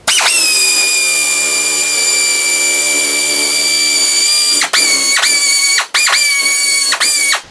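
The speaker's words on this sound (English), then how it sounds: "I'll use the pneumatic shears to cut it out." Pneumatic shears cutting a fresh sheet of metal for a rocket car belly pan, a loud continuous high whining buzz with brief stops and restarts near the end, no talk.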